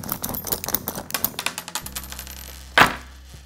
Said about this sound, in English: all this hardware can get a little bit noisy